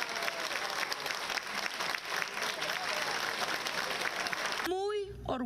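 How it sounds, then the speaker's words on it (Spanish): Crowd applause and cheering for a candidate at a Peruvian presidential election victory rally, loud and sustained for several seconds before a voice breaks in at the end. "¡Aplausos para él!"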